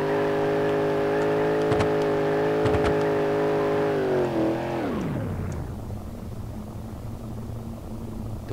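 A powerful Ferrari-type engine in a small vehicle in BeamNG.drive holds a high, steady whining rev with a few clicks, then the pitch drops sharply as it winds down to a low rumble.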